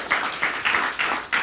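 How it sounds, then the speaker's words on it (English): Audience applause for a panel at a workers' rights event, a short burst of steady clapping from a crowd, moderately loud and without talk. "Let's have another round of applause for our fantastic panel."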